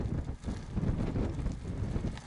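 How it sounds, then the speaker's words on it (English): Strong wind gusts across a lake in Colorado on a windy day, a steady, loud roar buffeting the microphone with no pauses and no talking. "we know it's a windy day"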